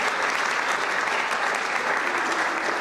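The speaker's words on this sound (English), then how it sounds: "Let's give them a round of applause." An audience applauding a high school choir at a civic event: a full, dense wash of clapping that holds steady throughout, close and loud, with no talk over it.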